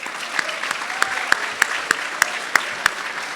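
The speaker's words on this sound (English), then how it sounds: "please join me in another round of applause for our amazing student athletes." Audience applause for student athletes at an awards event, a steady wash of clapping from a large crowd with sharper individual claps standing out at a fairly even pace.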